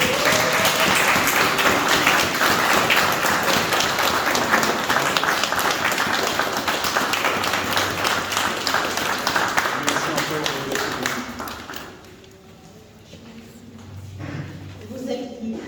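A hall audience at a book presentation and tribute gives loud, sustained applause that thins and fades toward the end, leaving scattered claps and a speaking voice.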